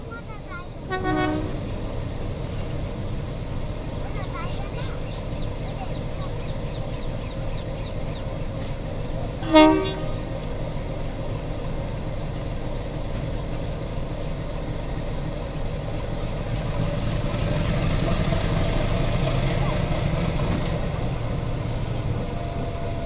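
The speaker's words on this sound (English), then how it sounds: "1350 horsepower Alco design YDM 4 number 6734 will perform the role of the helper today" Alco-design YDM 4 diesel locomotive number 6734, a 1350-horsepower helper engine, at Kalakund station with a train: a steady low engine rumble, short horn toots and a swelling roar late on, heard at a moderate distance.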